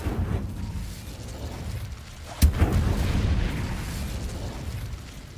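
An Incendio fire spell cast in the video game Hogwarts Legacy bursts with a sudden sharp boom midway, then a roaring rumble lingers over steady game ambience.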